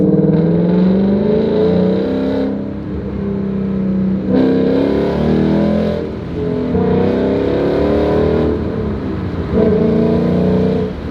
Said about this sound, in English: I have an aftermarket exhaust on it, so it sounds amazing